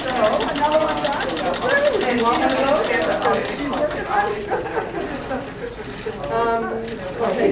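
A treadle sewing machine stitches in a sewing class, its fast, even mechanical clatter running under ongoing conversation close by.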